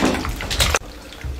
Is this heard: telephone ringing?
no